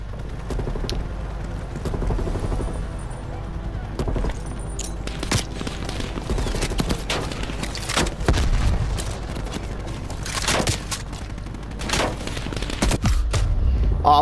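Dense gunfire in Call of Duty: Black Ops Cold War, rapid bursts and sharp cracks rolling almost nonstop over a low rumble of explosions, loud and close throughout.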